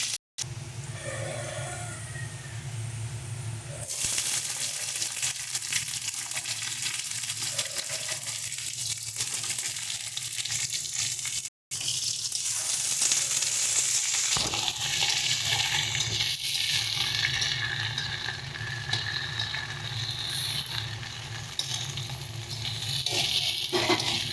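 Eggplant frying with onion in hot oil makes a continuous crackling sizzle with a bubbling, watery texture, broken by two brief dropouts and swelling louder in the second half.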